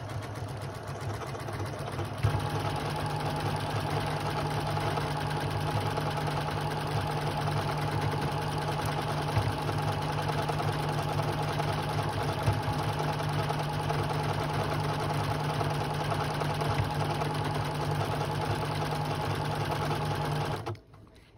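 A Janome MC 6700P sewing machine stitches lettering in one continuous steady run of fast, even mechanical whirring for about twenty seconds, then stops abruptly.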